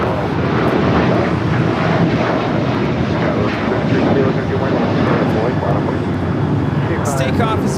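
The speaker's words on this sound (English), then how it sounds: "Its takeoff is United Airlines 1791, taking off to San Francisco on the 737-800" A United Airlines Boeing 737-800 takes off at LAX bound for San Francisco, its engines a loud, broad, continuous roar with wind buffeting the microphone throughout.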